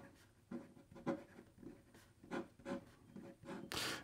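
A Pilot Parallel pen writes on Odyssey notebook paper, producing soft, close scratchy strokes in short separate bursts, with a louder rustle at the end.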